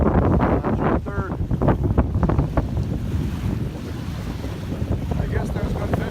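Strong wind buffets the microphone in gusts by South Manistee Lake near Curtis, Michigan, with waves lapping and a few brief voices, the roar easing somewhat toward the end.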